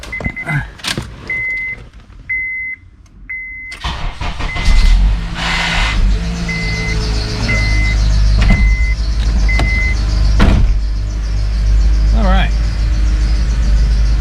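A Honda car that had been wrecked cranks and starts close by, then settles into a steady running engine note, preceded by repeated warning chimes and clicks, with a person talking over it.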